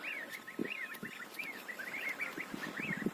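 Faint, rapid peeping and chattering from a group of ducklings, continuous and busy, with soft rustling underneath.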